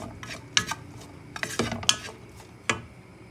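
Ham pasta being tossed in a pan, with a few sharp metallic clanks and scrapes of utensil against cookware spaced irregularly over a low kitchen background.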